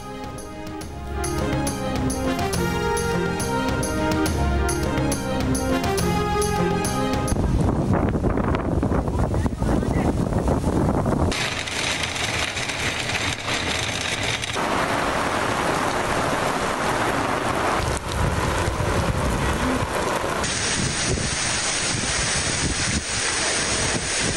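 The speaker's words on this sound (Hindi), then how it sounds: "रावलपिंडी और इस्लामाबाद में तेज़ हवाओं के साथ तूफानी बारिश।" Stormy rain with strong winds sweeps over Rawalpindi and Islamabad as a steady, dense roar of rain and gusting wind. It follows a short stretch of music and continues loud throughout.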